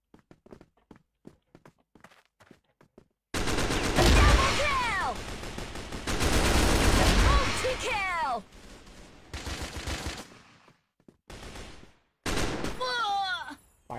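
Gunfire in a video game, with bursts of rapid shots in several loud clusters separated by quieter stretches of light tapping.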